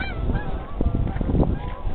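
Geese honk repeatedly in a wintry snow blizzard in Fairfax, Virginia, with cold wind blowing; several overlapping calls stand out clearly over steady wind noise, moderately near.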